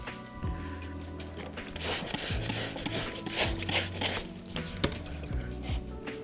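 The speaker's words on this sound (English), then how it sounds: "squeegee down, and squeegee away from the emblem" Squeegee pressing Vicrez pre-cut paint protection film onto a car hood around the emblem, a series of close rubbing and squeaking strokes with varying pressure.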